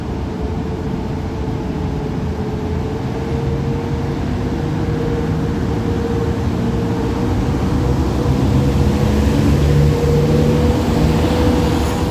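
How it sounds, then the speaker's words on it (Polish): An Intercity Panorama express train passes through a station with a steady, loud rolling roar and a sustained electric hum, unbroken from start to finish, with no voices. "Przejeżdża pociąg ekspres Intercity Panorama"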